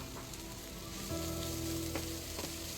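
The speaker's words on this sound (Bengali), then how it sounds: "এবার এতে অ্যাড করলাম একটা বড় সাইজের পেঁয়াজ কুচি" Chopped onion sizzling in a pan with ginger and garlic while making crispy cauliflower Manchurian, a steady close frying hiss that swells louder partway through, with no talking.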